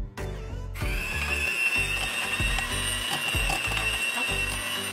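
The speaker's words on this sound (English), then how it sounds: "and then you're gonna mix all this together." Snickerdoodle cookie batter with butter, eggs and vanilla is mixed, giving a continuous motorized whir with a steady rhythmic clatter and a brief scraping burst at the start, with no speech.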